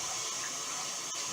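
Steady stream of tap water running over oxtail being rinsed in a kitchen sink, a continuous even rush with no break and no voices.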